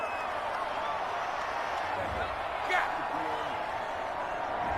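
Stadium crowd at a Madden 21 video game Super Bowl between the Green Bay Packers and Kansas City Chiefs, reacting to a big third-down call. A steady roar of cheering stays loud throughout and swells briefly near the end.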